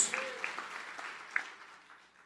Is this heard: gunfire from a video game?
no